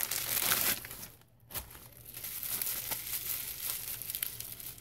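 Plastic wrapping crinkles and rustles in bursts, loud at first, pausing briefly, then continuing with softer handling sounds close by.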